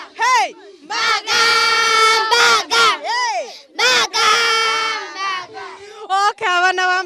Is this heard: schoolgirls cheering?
yes